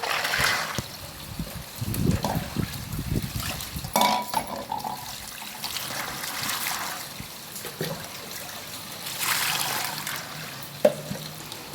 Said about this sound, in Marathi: त्या वालांना भिजत ठेवलेले रात्रभर त्यांना धुवून स्वच्छ घ्यायचं